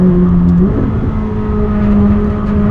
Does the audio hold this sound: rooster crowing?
no